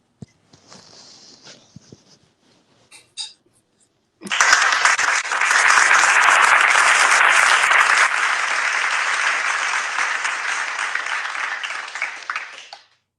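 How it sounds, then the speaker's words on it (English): An audience claps for a guest auntie on a talk show about dating and relationships, opening with a few scattered claps, then breaking into sustained, loud applause for about nine seconds before fading out. "Auntie deserve clapping hands."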